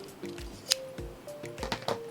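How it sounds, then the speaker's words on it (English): Large scissors snip and slice through the cardboard of a sewing subscription box, with a few sharp cuts and squishy crunches heard up close at low volume. "I've got some big scissors here. And let's slice this baby open."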